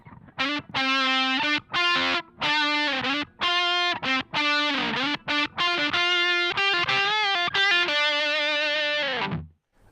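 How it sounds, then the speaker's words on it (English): Electric guitar through a fuzz pedal, picking single notes in short bursts with thick, harmonically rich sustain, loud and close, ending in a longer held note that fades. "So we get that beautiful thick response when you're picking single notes."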